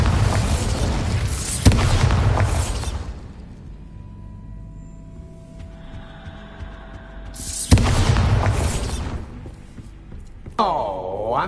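Magical Bombarda blasting spell effect: a deep booming burst rolls out and fades into a low rumble and ringing tones, followed by a second heavy blast and a swirling whoosh, all loud and up close.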